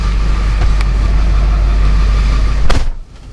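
Steady, loud low rumble of a car engine idling, heard from inside the cabin, then cutting off abruptly near the end as the engine is switched off.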